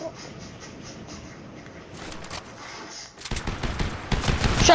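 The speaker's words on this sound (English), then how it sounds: "Shots fired!" Rapid gunfire in a video game end-round fight, starting as faint distant bursts and building into loud, dense automatic volleys that grow closer and heavier toward the end.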